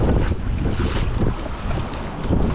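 Strong wind at sea aboard a fishing boat, heard as loud, gusting microphone buffeting with surging wave and water rush, swelling and easing over a few seconds with no speech.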